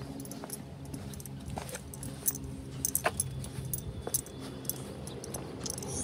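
Keys jingle in a few brief bursts against a steady outdoor background hum, light metallic clinking near the middle of the clip.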